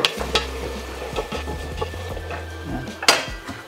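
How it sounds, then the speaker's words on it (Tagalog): Pares with bone marrow being stirred in a cooking pot, close scraping and knocking of a utensil against the pot in irregular strokes over a low simmer, with a louder clank near the end. "Tapos haluin nyo lang"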